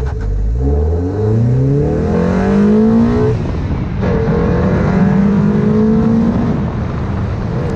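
A front-wheel-drive car accelerates hard, its engine climbing steadily in pitch, drops briefly during a gear change, then pulls and rises again, loud and close throughout.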